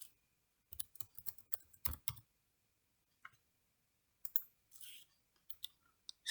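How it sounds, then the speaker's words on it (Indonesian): A computer mouse clicks while a Google Forms quiz is being set up, with sharp, close taps coming in scattered bursts and clusters amid quiet pauses, and no talking. "kita tinggal klik di sini"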